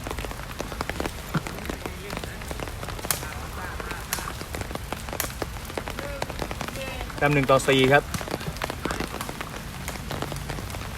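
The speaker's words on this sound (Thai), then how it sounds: "ฝนนี้ก็ไม่มีทีท่าว่าจะหยุดนะครับ น่าจะทั้งวันเลยครับ" Heavy rain pours steadily over an outdoor sepak takraw match, a dense continuous patter with sharp drops and thuds, while a commentator speaks over it and a short burst of voices rises near the end.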